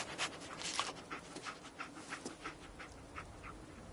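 Dogmeat, the dog in Fallout 4, pants quietly and rhythmically in a fast, breathy series of short puffs that keeps going throughout.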